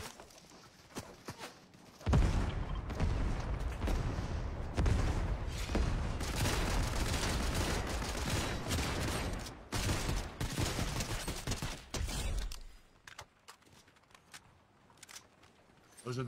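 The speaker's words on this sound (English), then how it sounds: "Those are the rockets that shoot down." Rockets shooting down in Fortnite: a dense barrage of rapid bangs and crackling impacts runs for about ten seconds, loud and steady, with quieter scattered sounds and voices before and after.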